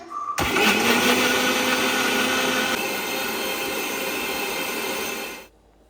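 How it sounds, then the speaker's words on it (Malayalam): A mixer grinder jar blends grated coconut with green chilli, garlic and curry leaves, a loud steady whirring grind that starts abruptly, shifts pitch midway, and cuts off near the end, with no talk. "ഈ തേങ്ങ അരച്ചെടുക്കാനായി ഒരു മിക്സിയുടെ ജാറിലേക്ക് ഇട്ട് കൊടുക്കുന്നുണ്ട്."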